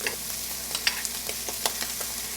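Diced grilled chicken thighs, scallions and barbecue sauce tossed together in a bowl, giving soft wet stirring and slapping sounds with small clicks, close and fairly quiet, with no talking.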